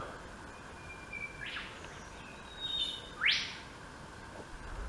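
Several birds chirp and whistle in the morning air at a lagoon anchorage in Tonga, heard from a boat, with a couple of louder rising calls over a quiet background.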